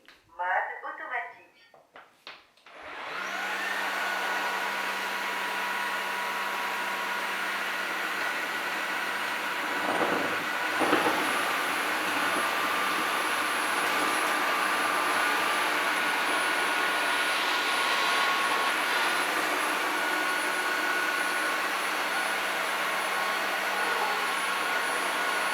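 A Dreame H12 Dual wet-dry vacuum in automatic mode scrubs and sucks up liquid on a tiled floor. Its loud, steady motor whine and airy suction roar run continuously after a brief start, with a faint tonal whistle on top.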